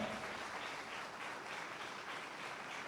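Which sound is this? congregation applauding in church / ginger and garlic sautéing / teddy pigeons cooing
congregation applauding in church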